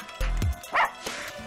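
A dog barks in the Russian Subway Dogs video game, a couple of short yipping barks with a whimpering tone in quick succession, close and clear.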